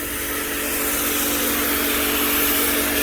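A snow foam sprayer coats a car in soapy foam during a quick wash, giving a steady, loud hiss of pressurised spray with a constant machine drone underneath, continuous for the whole stretch and close by.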